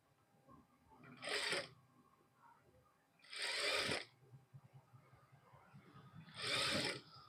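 A sewing machine stitches blouse fabric in three separate short runs, each a quick whirring burst of needle strokes with quiet handling noise between them.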